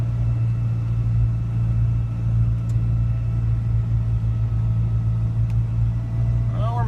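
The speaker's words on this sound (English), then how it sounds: "So now we're chooching up this big old hill here. Probably gonna have to downshift." An old pickup truck engine labouring up a steep hill: a loud, steady low rumble and drone continues throughout, heard from inside the cab with little change in pitch.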